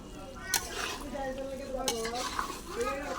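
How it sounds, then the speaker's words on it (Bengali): Tilapia fish being stirred in spice masala in a pan, close scraping and clinking of a utensil against the pan with a soft sizzle underneath and a few sharp knocks. "ভালো করে নাড়াচাড়া দিয়ে সব মাছের ভিতরে মশলাটা যাতে ভালোভাবে লেগে যায়"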